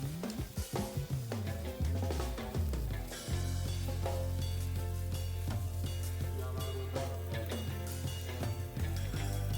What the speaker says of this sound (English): let it cook until you get really good browning on the other side